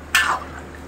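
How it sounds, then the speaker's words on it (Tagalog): Water is poured into a cooking pot of chicken feet being stewed with stock cubes, a short splashing gush that lasts under half a second and then fades to quiet. "Lagyan natin ng tubig."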